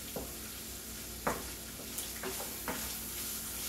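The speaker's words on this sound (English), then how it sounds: "break your hamburger meat in pieces so it's kind of small" Hamburger meat broken up and stirred in a frying pan, a steady close sizzle with several scraping spatula strokes against the pan, no talking.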